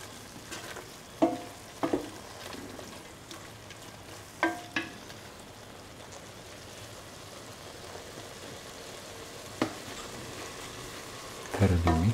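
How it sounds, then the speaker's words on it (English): Eggplant and scrambled egg rice are stir-fried in a pan, a low steady sizzle broken by a few sharp spatula scrapes and knocks, with a louder clatter at the very end. "Mix with the eggplant and the rest of the ingredients."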